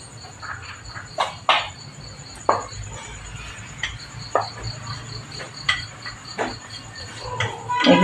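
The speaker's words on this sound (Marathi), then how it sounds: "आपण हा परतून घेऊया" Drumstick-leaf mixture for paratha being sautéed in a pan, with repeated sharp clicks and scrapes of a metal spatula against the pan at an uneven pace over a low hum, close and fairly loud.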